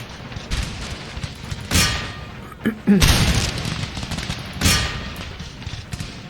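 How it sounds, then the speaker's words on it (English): Musket volleys rolling out across a battlefield in the strategy game Empire: Total War: several booming, crackling bursts of massed gunfire a second or so apart, with a voice speaking briefly between them. "Got one volley off here."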